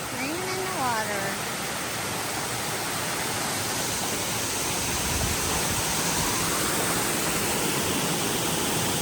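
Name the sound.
waterfall in a creek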